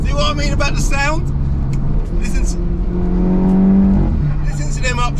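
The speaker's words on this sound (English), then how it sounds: "Listen to them upshifts. It sounds unreal." A stage 2 tuned Audi TTS pulls up through its gears on the road, the engine note climbing and dropping with each shift, while a person talks over it close up.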